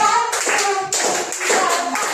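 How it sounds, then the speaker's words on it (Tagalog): A Grade 9 class clapping together in a counted rhythm of sharp, close claps, with a voice counting along over them. "bigyan natin ng 5 palakpak ang Group 1"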